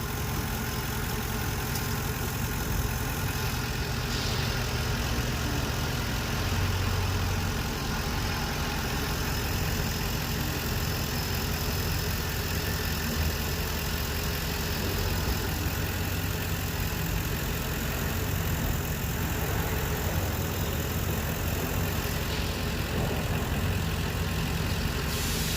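Warmed-up Lincoln Town Car engine idling steadily, heard close and loud, with a constant low hum and mechanical whir for about twenty-five seconds and no voices.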